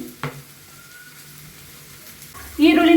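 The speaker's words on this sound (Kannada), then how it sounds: "ಇವಾಗ ಕರ್ಬೇವು ಸೊಪ್ಪು ಸೇರಿಸ್ಕೊಂಡಿದ್ದೀನಿ" Fresh curry leaves drop into hot oil for a pepper chicken, setting off a loud, bright crackling sizzle near the end after a quieter stretch of low pan hiss and a single knock.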